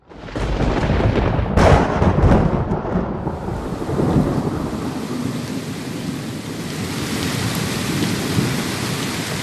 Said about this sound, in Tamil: பெய்து கொண்டே இருந்தது மழை